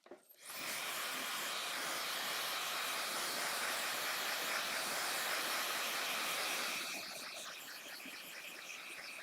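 A steady, loud broadband whoosh of an electric blow dryer running close by, continuous for most of the clip and easing slightly near the end.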